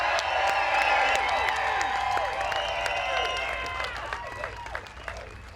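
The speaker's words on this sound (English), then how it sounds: "the largest welcoming applause" A large outdoor rally crowd cheers and applauds to welcome a speaker, with clapping under a mass of overlapping whoops, shouts and high excited voices that gradually thin out toward the end.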